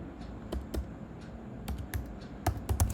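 Keys on a computer keyboard click in irregular short bursts, close and fairly quiet, with scattered single taps and quick clusters over a low room hum.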